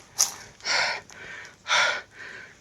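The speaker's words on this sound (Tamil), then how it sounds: "செம்மையாக மூச்சு வாங்குது" Heavy, loud panting from a person climbing a hill in Pudukkottai: a sharp gasp, then two long, rough breaths in and out, close up.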